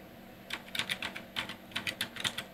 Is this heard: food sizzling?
no